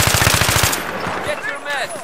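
Rapid automatic gunfire from a multiplayer video game shooter opens with a fast, loud burst of about ten evenly spaced shots, then fades into quieter game sounds.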